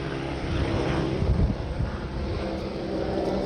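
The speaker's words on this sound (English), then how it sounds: "Helicopter fly by." A helicopter flies overhead, its rotor a steady broadband whir with low pulsing beats that swells briefly and then holds at a moderate distance.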